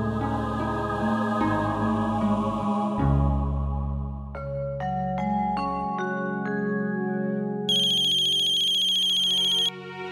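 A phone ringtone plays an incoming-call melody of clear electronic tones, stepping through notes before a bright high sustained chime, loud and continuous with no talking.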